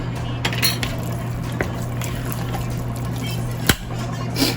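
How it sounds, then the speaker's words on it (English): A spoon breaks while stirring lasagna filling, a single sharp snap rising out of steady clinking and scraping in a bowl, close and fairly loud over a low electrical hum. "Wow, I just broke the spoon."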